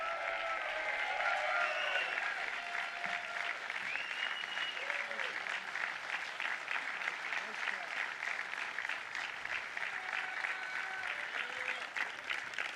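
Sustained applause fills a large hall at a speech event, dense, even clapping from a big crowd that runs unbroken for several seconds without easing, heard at a moderate distance.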